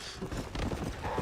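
Horse hooves clip-clopping in Red Dead Redemption Undead Nightmare, a quick run of soft hoof beats at moderate distance, fairly faint, with game sounds around them.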